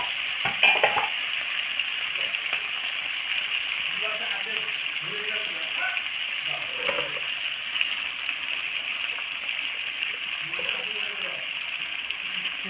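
Bamboo shoot and bitter gourd fry in a pan with a cracked egg, giving a constant bright sizzling hiss that stays even throughout, while a voice talks softly beneath it at intervals.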